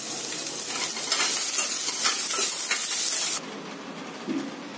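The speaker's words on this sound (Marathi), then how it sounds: "तर आता आपला कांदा भाजून झालेला आहे, छान अशा प्रकारे भाजायचा, जास्त ब्लॅक होऊ नाही द्यायचा" Chopped onion roasting in a little oil in a pan for egg curry, a steady close sizzle and frying hiss with stirring, which drops to a quieter sizzle near the end.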